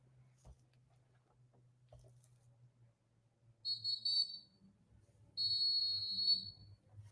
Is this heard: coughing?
no